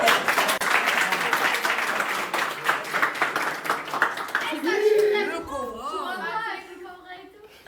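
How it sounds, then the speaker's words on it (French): Applause and clapping from a small group in a villa, dense claps for several seconds while people chatter and laugh over them, then fading as voices take over near the end. "Applaudissements."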